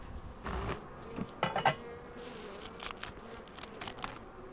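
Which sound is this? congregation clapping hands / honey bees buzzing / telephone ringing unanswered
honey bees buzzing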